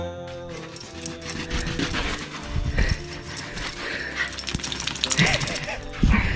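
A dog in a slot canyon gives excited yips, whimpers and short barks in bursts, close by, over outdoor background music and a person talking to it.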